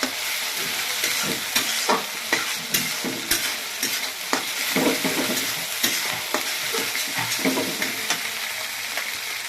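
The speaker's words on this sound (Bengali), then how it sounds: "এক চামচ আদা বাটা দিয়ে দিলাম।" Ginger paste fries in a hot pan, with a steady bright sizzle and repeated scraping strokes as it is stirred, close and alone without any voices.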